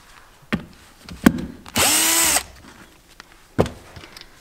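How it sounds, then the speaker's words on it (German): Plastic nut being unscrewed with a 10 mm socket from the center console of a BMW E36, heard as a few short clicks and knocks and then a loud, steady whirring burst of about half a second, with no talk. "Dafür schraubt man die Kunststoffmutter mit der Zehnernuss ab."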